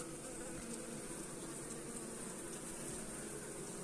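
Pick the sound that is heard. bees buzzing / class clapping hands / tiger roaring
bees buzzing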